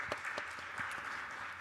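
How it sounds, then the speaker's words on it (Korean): Steady applause from a church congregation at an evening service, a continuous patter of many hands clapping at moderate distance. "우리 큰 영광 받으시는 하나님께 우리 영광의 박수 올려드립니다"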